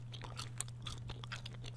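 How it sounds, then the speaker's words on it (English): Gum chewing for ASMR, recorded close on one ear during Fortnite gameplay, comes as a quick run of small wet clicks and crunches in a steady rhythm over a low constant hum, with no talking. "let's do some gum chewing over on this ear"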